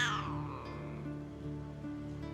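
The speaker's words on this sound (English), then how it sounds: "Greetings, cat." A cat meows once in Baldur's Gate 3, a fairly faint, drawn-out call at the start, fading out over a quiet game background.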